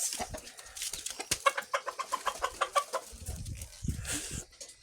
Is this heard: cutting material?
no